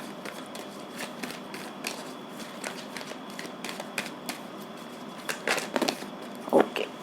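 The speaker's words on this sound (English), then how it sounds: "Let me shuffle again." Oracle cards being shuffled by hand, a steady soft riffling and flicking that grows busier toward the end, close and fairly quiet, with no talk.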